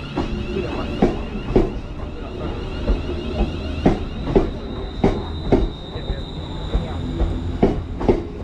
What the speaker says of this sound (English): So there goes 350-250 with the London North Western Railway service.